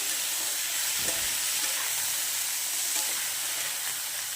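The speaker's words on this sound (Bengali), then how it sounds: "আমি সব সবজিটা দিয়ে ভালো করে নাড়াচাড়া করবো" Mixed vegetables, including flat beans, eggplant, peas, beetroot, green beans and carrot, fry in a pan with a steady, even sizzle and only faint, occasional stirring scrapes.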